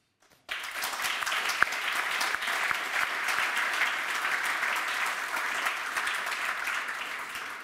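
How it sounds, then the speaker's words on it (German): Hertha fans in a studio audience break into sustained applause, starting abruptly after a brief silence and holding as a dense, even wash of clapping for several seconds, with no talking. "Du merkst, du bekommst hier von den Herthanern viel Applaus."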